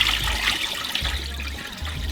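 Water poured over rice during rinsing, a steady broadband splashing wash that runs continuously and close, with no talk.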